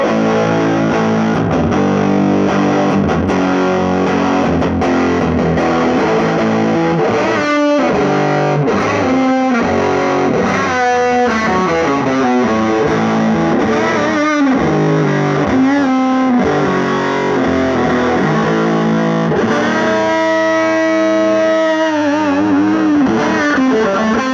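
A heavily distorted electric guitar on the bridge humbucker, through a ProCo RAT pedal, plays chords and riffs, loud and saturated, with sustained notes, sliding bends and a final ringing chord.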